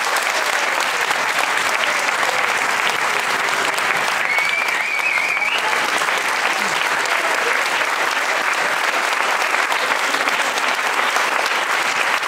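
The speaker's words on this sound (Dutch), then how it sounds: "Dames en heren, mogen even een applaus, maar vooral even voor deze dag." Sustained applause from a crowd at a TV competition finale, steady and dense clapping throughout with no pauses, loud and close.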